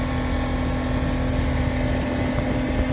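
The engine of a 1978 Vanguard boat, on its first run in two years, drones steadily and loudly on the water with a constant low hum and no talking over it.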